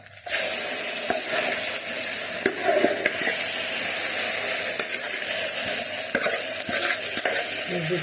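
Oil sizzles and hisses steadily around a batch of Egyptian home-style eggah, a baked egg-and-vegetable tray, as it fries. The sound is dense and continuous, with occasional sharper crackles and utensil clicks close by and no talking.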